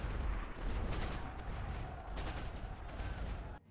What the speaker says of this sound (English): How are they directing this artillery fire?